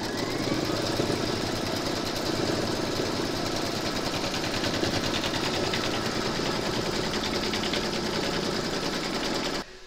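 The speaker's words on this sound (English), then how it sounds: "Pop your hoop into your machine and stitch round number 6, and that's going to secure this fabric in place." An embroidery machine stitches fabric held in a hoop with a continuous, steady, rapid mechanical chatter throughout, close and even, cutting off at the very end.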